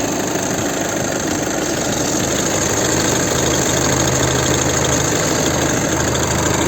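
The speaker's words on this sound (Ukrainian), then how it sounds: "Двигун працює ідеально рівно," A warmed-up 2013 VW Touran Comfortline 2.0 TDI diesel engine idles evenly and steadily at close range, a constant low rumble with faint rhythmic clatter and no speech.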